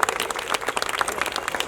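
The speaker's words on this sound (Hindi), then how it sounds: "ताली होनी चाहिए अतिक सर के लिए" At a seminar on railway job vacancies, the audience claps for a speaker, the sharp individual hand claps close and fairly loud, packed into a brisk, uneven patter that carries on without speech.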